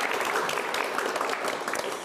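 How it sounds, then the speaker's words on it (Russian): A crowd claps steadily and energetically throughout, dense applause with no voices standing out. "Аплодисменты."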